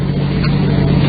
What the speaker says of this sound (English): A motorcycle. Behind us?